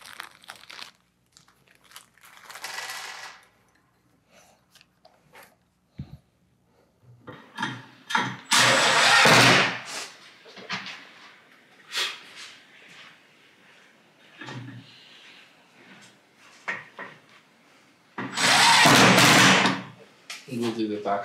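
Kit screws being driven with a square Robertson bit into a 48 x 30 inch LongMill MK2 CNC frame, heard as bursts of loud grinding driver whir and rattly handling clatter, with a person talking in between.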